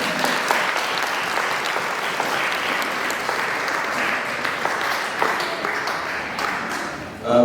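A church congregation applauds at a Swahili service, a dense, steady wash of clapping that holds for several seconds before tapering off, with a few voices faintly underneath.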